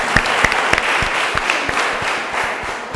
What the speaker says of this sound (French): Veuillez applaudir Madame